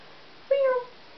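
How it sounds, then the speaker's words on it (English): A cat lets out one short, clear meow close by, a brief tonal cry over quiet background hiss. "Oh, my adorable little kitty cat."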